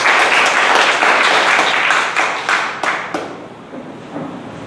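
An audience applauds a contestant at a Toastmasters table topics contest, with loud, dense clapping at first that thins into scattered claps and fades toward the end.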